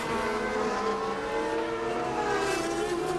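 A Courage sports prototype race car accelerating past on the Magny-Cours circuit in 2001, a loud, steady, high-revving engine wail held throughout at close range.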